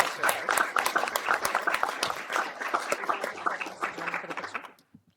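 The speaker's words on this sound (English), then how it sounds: "Let's give her a round of applause" Audience applause at a city council meeting, dense steady clapping from many hands lasting several seconds before fading out at the end.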